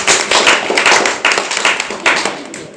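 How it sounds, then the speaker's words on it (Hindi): A church congregation at a Sunday service claps their hands together in a fairly even rhythm, close and loud, with crisp individual claps standing out from the group. "आप तालियां बजा सकते हैं।"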